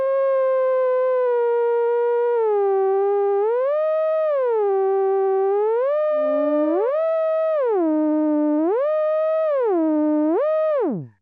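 A theremin played in a pure, sine-like tone that steps and glides between pitches across nearly an octave, held loud and steady for about eleven seconds before dropping away abruptly.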